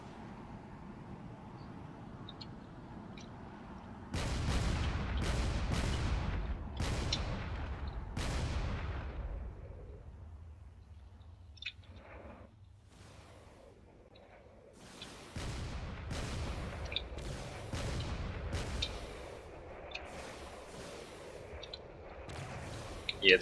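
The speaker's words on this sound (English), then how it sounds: "There's even some shells going all the way across the battlefield." Artillery shells fire across the battlefield in a Drone Wars pirate invasion battle, a series of booming reports in bursts, some clustered and rapid, with a low rumble between them and a voice talking at times.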